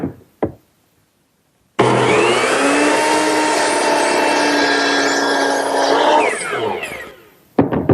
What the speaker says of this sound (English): that angled cut is best made at the power miter box